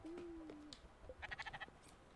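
Sheep bleat in the video game Spiritfarer. A few short, wavering cries sound close and clear against a quiet background, with a thin tonal sound just before them.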